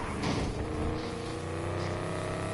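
Engine of a car at top speed, around 245, in the racing game Need for Speed Heat, a steady loud roar with dense harmonic drone running throughout, with no talk.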